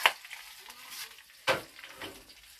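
Onions and green chillies fry in oil for mint chutney, with quiet sizzling and a few sharp stirring scrapes against the pan.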